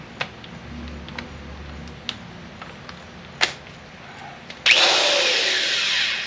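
A power tool spins off the clutch hub nut on a Panhead motorcycle. Scattered light ticks and clicks come first, then a loud, close buzzing whir starts abruptly and runs to the end.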